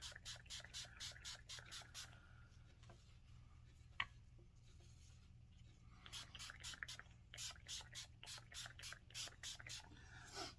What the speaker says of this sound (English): Spray the slide.